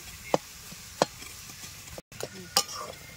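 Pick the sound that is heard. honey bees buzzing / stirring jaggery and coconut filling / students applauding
stirring jaggery and coconut filling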